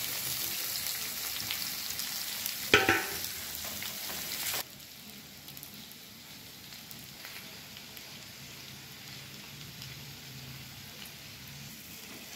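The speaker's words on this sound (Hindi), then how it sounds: "अब इसमें हम आलूओं को सबसे पहले फ्राई कर लेंगे" Potatoes fry in a pan of hot oil for an aloo jeera dish, a steady close sizzle that is loudest early with a brief clatter near three seconds, then settles to a quieter, even crackle for the rest.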